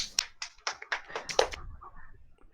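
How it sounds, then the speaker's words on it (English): A brief burst of light, scattered clapping from a few hands, close by, trailing off after about two seconds. "Round of applause for the lad."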